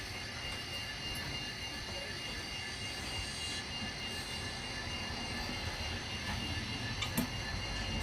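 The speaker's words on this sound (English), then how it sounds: "the power that I'm using now for the loco is my two main central GP40-2Ls" Two GP40-2L diesel locomotives switching freight cars at a freight terminal, a dense rumbling rail noise with clanking and ticking wheel sounds and faint squeals, steady throughout, moderately loud.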